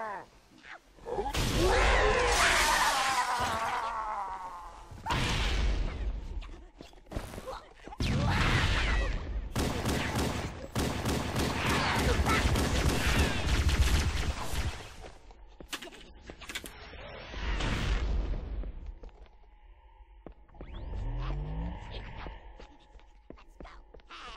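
Rapid gunfire and booming grenade blasts from Halo: Combat Evolved during the Assault on the Control Room level, with dense, loud bursts of combat that keep coming with only brief gaps.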